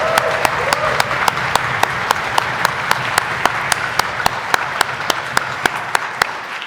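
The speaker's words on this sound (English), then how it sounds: "we could give them a round of applause" A conference hall audience at an annual general meeting claps steadily for staff, a dense, sustained wash of applause with sharp, evenly spaced ticking accents running through it.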